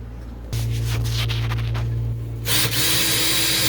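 Power drill driving screws into a boat's fiberglass sides tabbed into wood during a water maker install, a steady close whir running for about two seconds, then a brief pause and a second burst of drilling.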